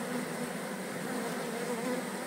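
Defensive honeybees buzz steadily and densely around an opened hive, a continuous close-up drone with no talk.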